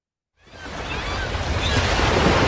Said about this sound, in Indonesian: Ombak yang bergulung bukan hanya suara alam